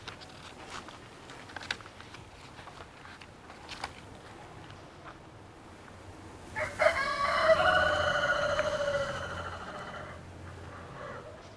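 A rooster crows once, loud and close, in a long drawn-out cock-a-doodle-doo that starts partway through, after a stretch of quiet outdoor ambience with faint light tapping.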